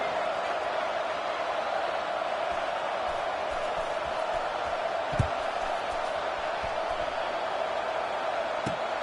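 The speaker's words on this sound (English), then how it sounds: "this crowd is buzzing after that last score" Steady crowd murmur fills a video game football stadium, a broad even buzz with a few faint thumps and no clear cheers.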